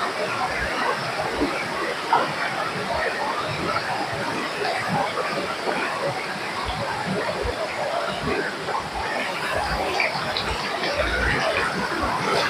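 Aadoshi waterfall near Khopoli roars as a steady, dense rush of falling water, loud and continuous from start to finish with no pauses.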